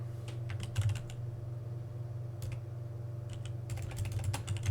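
Fingers typing on a computer keyboard while entering network switch configuration commands, a close run of quick clicky keystrokes in bursts with short pauses, over a steady low hum.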